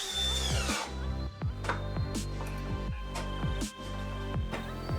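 A power drill drives 6×70 screws through a workbench into its rear wooden vise jaw, whining loudly and close with repeated pitch drops as the motor loads and eases off.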